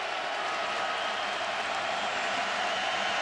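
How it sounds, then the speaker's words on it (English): Sellout stadium crowd at a 2012 Vanderbilt versus Tennessee college football game, a loud continuous wash of cheering and roaring from thousands of distant fans. "You can hear the sellout crowd."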